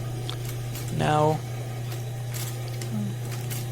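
A sewing machine stitches a leather glove or camera wrist strap, its steady motor hum running throughout while a voice speaks briefly over it.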